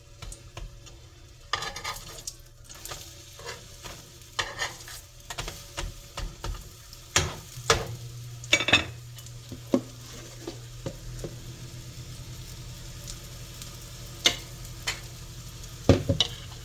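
Minute steaks frying in butter-flavored Crisco, with a soft ongoing sizzle broken by sharp clinks and scrapes of a utensil against the pan, close by and uneven in rhythm.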